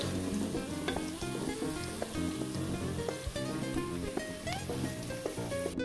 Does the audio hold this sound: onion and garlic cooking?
yes